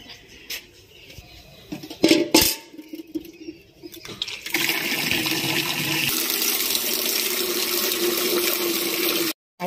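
Water runs from a tap into a bucket in a Punjabi village home, starting with a few clanks and splashes, then a steady loud gushing stream that continues until it cuts off at the end.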